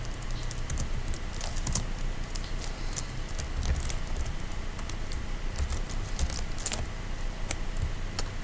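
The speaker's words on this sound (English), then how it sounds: "Make sure that I'm typing this correctly." Steady, close computer keyboard typing with rapid irregular clicks throughout, no voices.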